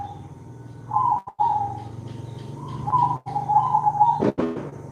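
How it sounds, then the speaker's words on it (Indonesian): A zebra dove (perkutut) coos in repeated rhythmic phrases, loud and close, with clear tonal notes broken by short pauses, a low steady hum beneath and a brief sharp click near the end. "Jadi burung perkutut itu bunyi itu"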